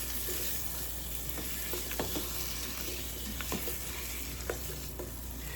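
Scallions and tomato sauté in a pan with a low, steady sizzle and scattered stirring clicks, fairly faint and without talk.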